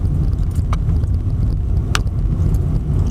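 Cars idle and creep in a traffic jam backed up behind a large accident, a loud steady rumble of road traffic and wind with a couple of faint metallic clinks, no voices.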